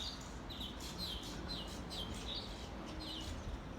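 Birds chirp at sunrise on a Cape Town morning, a steady series of bright repeated tweets over a constant low background hum, with no talking.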